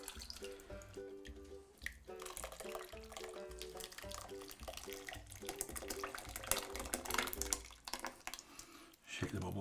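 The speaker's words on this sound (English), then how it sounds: "Right now, just pour gently from the beginning" Liquid is poured gently into a face mould, giving a soft, quiet trickle and light dripping that carries on steadily, with a voice faintly present in the background.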